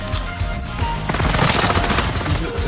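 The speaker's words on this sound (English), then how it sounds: "Enemy precision airstrike." Precision airstrike in Call of Duty Warzone: a dense, loud run of booming impacts and rapid crackling blasts, falling heavily one over another for a couple of seconds with no voices.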